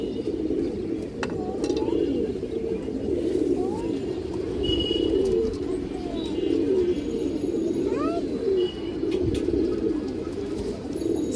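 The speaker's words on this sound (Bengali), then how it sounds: "খুবই সুন্দর কবুতর দর্শক" Domestic pigeons at a breeders' loft, including a silver pair, coo in a steady low throbbing chorus with a few sharper chirps above, close and continuous throughout.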